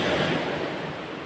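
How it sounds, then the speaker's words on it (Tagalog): Loud ocean waves crashing against rocks at the shore, a continuous heavy roaring surge with wind noise on the microphone, close and dominant throughout a short stretch. "Pasensya na at malakas yung alon."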